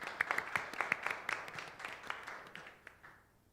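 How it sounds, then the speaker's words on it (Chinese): An audience claps to welcome a speaker at a youth worship service: scattered, fairly quiet applause that trails off and fades toward silence. "拍手来欢迎。"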